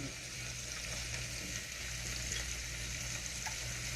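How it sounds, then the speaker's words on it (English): Cabbage sautéing in a pot, a soft continuous sizzle and hiss with faint stirring, low in level and without talk. "So we're going to saute this a little bit and stir this up."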